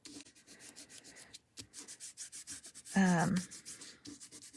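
Ribbon being burnished onto card stock with a tool, a soft close rubbing that repeats in short, quiet strokes, ending in one brief louder scrape.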